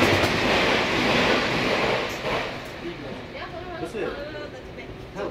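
A train rumbles past at a level crossing with steady, loud rail noise and faint clatter, while people talk over it.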